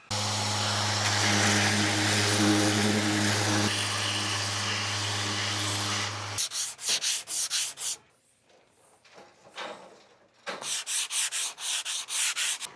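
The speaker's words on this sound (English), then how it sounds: "we're using the hand sander, the little flex sander, to take all the fairing down to flat" A small flex hand sander grinds steadily across fairing compound on a countertop, a continuous loud buzzing rasp for about six seconds that stops abruptly, followed by people talking.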